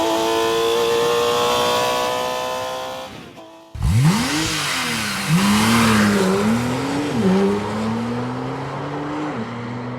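Normally aspirated Porsche GT road car engine, a high-revving flat-six, held at steady revs, then cutting off abruptly before snarling back with rising and falling rev blips, loud and close with no talk.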